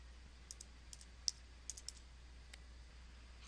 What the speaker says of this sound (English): we're going to type in the command